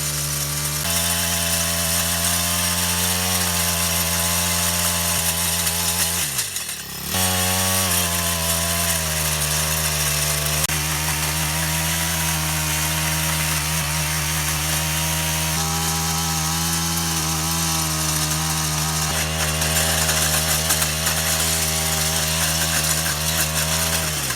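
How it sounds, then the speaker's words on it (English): A garden cultivator engine droning loudly and steadily as it grinds through compacted hard clay and rock while digging a foundation perimeter footing, with one brief dip in pitch midway, close and without speech. "Garden cultivator is now a rock grinder."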